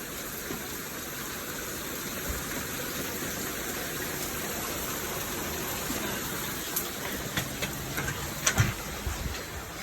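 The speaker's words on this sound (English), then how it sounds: "It started raining on my shoes." Steady rain pours down outdoors in a heavy deluge, a dense continuous hiss with a few sharper drips and taps near the end, with no talk.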